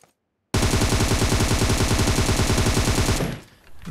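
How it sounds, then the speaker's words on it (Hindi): Rapid automatic gunfire in a battle royale video game, a loud continuous burst of closely spaced shots after a brief silence, cutting off near the end. "तो मैंने यहाँ पे रैंडम फायर दिए"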